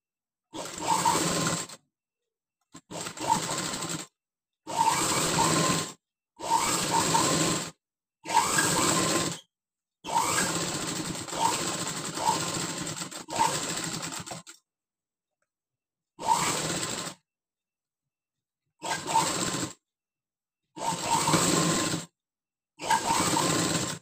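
An electric sewing machine stitches a blouse lining in repeated bursts of steady mechanical whirring, each run lasting a second or a few, separated by short silences, close and clear with no talk.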